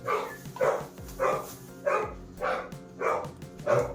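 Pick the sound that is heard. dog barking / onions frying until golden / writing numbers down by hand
dog barking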